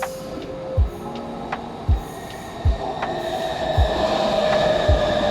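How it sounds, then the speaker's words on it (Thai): A metro train rolls into Tao Poon station in Bangkok, its wheels thumping rhythmically over rail joints while a high squeal rises and holds as it slows. "รถไฟฟ้าก็วิ่งเข้าสู่สถานีแล้วนะครับ"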